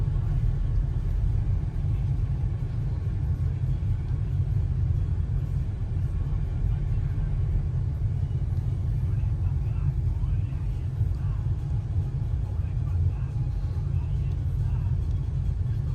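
A new MTZ 892.2 tractor drives along the road home, a steady, heavy low engine rumble that continues without a break, with people talking faintly underneath.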